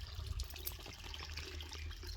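A small, cold stream in a German village flows steadily, a soft continuous gurgle and rush of water heard faintly from close by.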